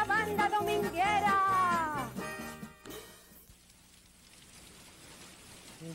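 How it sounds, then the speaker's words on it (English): Steady rain falls in the background, a soft continuous hiss. Sung or musical voices sit over it at first, then fade and leave the rain alone. "hey, it's raining, you know."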